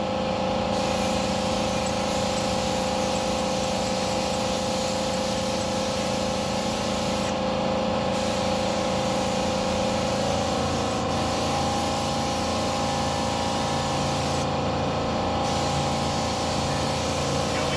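Spray paint hissing onto suspension control arms of a 1973 Plymouth, a steady, close, continuous aerosol hiss that holds unbroken for the whole stretch.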